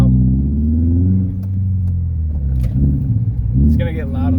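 Subaru Forester engine on a drive, a steady low rumble with a brief rise in revs, under a voice talking throughout.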